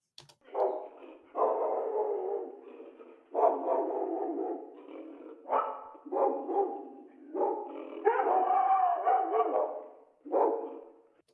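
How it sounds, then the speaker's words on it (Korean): A dog barks repeatedly in a processed recording made to sound far away, a steady series of muffled, thin barks with short pauses between them, no voices present. "어떻게 멀리 있는 개 같으세요? 한참 멀리서 짖는 것 같죠?"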